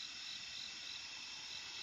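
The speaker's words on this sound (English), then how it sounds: "you can hear all these sounds of the night. Yeah, like a bunch of crickets" Crickets chirp in a dense, steady high-pitched chorus at night, continuous and fairly faint throughout with no other sounds standing out.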